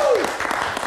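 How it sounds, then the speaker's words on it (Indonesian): A studio audience bursts into applause for a guest on Meet Nite Live, an Indonesian late-night TV talk show, a brief steady wash of clapping that starts right after a voice trails off. "Tepuk tangan sekali lagi untuk Bung Rizky Gerung."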